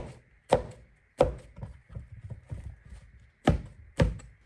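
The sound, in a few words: knife chopping enoki mushrooms on a cutting board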